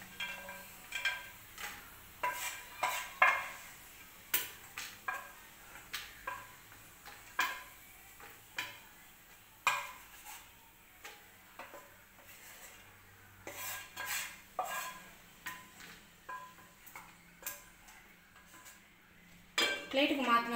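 Metal spoon scraping and clinking against a pan and plate as fried almonds and cashews are moved out for dates halwa, a steady series of light taps and scrapes, fairly faint, with no talk.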